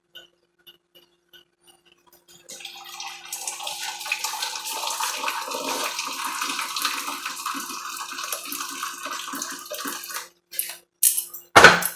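Liquid is poured off a pan of cooked meat filling for shepherd's pie, a steady splashing, rushing stream for several seconds that tapers off, followed by a few clinks of metal and cookware.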